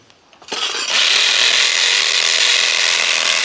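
A loud, continuous power-drill whine driving screws into wood, starting after a couple of quick knocks and holding steady without pause; the drill is too small for the screws.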